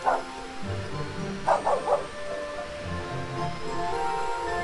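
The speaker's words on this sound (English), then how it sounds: "Puppy!" A few short, high dog yips and barks in the video game Simon the Sorcerer 3D, one at the start and a quick cluster of three a moment later, over a steady background hum.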